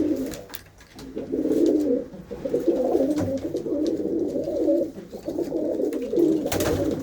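Pet pigeons kept by a soldier coo in low, throaty repeated phrases, several birds overlapping near at hand with faint background noise.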